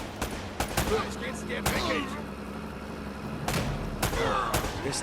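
Gunfire in the Uncharted video game, scattered sharp shots spread out amid a busy action soundscape, with voices talking over it.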